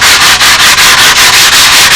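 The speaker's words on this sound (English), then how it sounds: "You certainly wouldn't want to sand the leading edge with a sanding block now" Sanding block rubbed back and forth over the balsa wing sheeting of a model aircraft, loud and close, steady strokes repeating about every fifth of a second with no talk.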